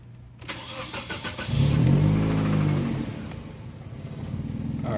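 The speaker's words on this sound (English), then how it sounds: "we're going to start the car" A car engine cranks briefly and catches, settling into a fairly close, steady idle rumble after a short burst of revs, with no talking.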